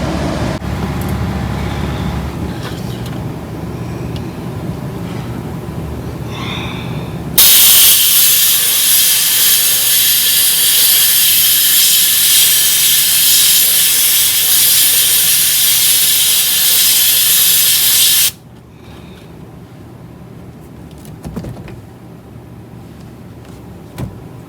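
Compressed air hisses loudly and steadily for about ten seconds while blowing out a spark plug from a 1947 Ford hot rod, then cuts off abruptly, with quieter shop noise before and after.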